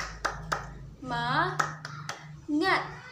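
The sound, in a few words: class doing rhythmic spirit clap (tepuk semangat)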